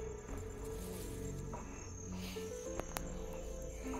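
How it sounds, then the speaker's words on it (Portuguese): Crickets chirp steadily and continuously inside a small house amid plants, a dense high trill over faint background noise with no talking. "Tem até um grilo aqui, ó."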